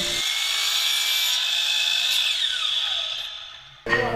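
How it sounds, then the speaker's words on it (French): A miter saw cutting interior door casing trim, a loud whining blade biting through the wood for several seconds, pitch sagging as the cut finishes, followed by a short clunk. "nous allons sur la scie à onglet et nous coupons notre cadrage."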